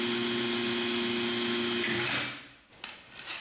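A small power drill whines steadily while boring a hole in a candle lantern for an LED, then winds down and stops, followed by a few faint handling clicks.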